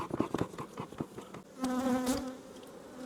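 Honeybees in a queenless, aggressive hive buzz during a frame inspection, a close, steady droning hum that swells after a few soft taps and handling noises.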